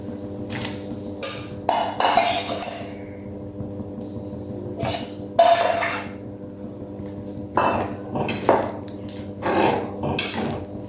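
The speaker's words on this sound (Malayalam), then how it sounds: "ഇനി നമുക്ക് നമ്മുടെ മീൻ കഷ്ണങ്ങൾ ഇട്ട് കൊടുക്കാം." Pieces of dried fish going into a curry pot, heard as several clinks and scrapes of utensils against the pot in irregular bursts, close up over a steady low background hum.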